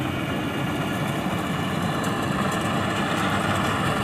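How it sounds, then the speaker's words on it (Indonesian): A farm tractor engine runs at a steady low idle, hauling harvested rice across a wide paddy field in Bombana, Southeast Sulawesi. The rumble is constant and fairly close, with no talk over it. "di sini ada langsung diangkut menggunakan traktor sawah guys"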